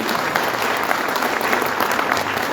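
An audience at a government job fair in Shimla breaks into loud, dense applause, a continuous roar of many hands clapping close by, steady for the whole stretch without speech.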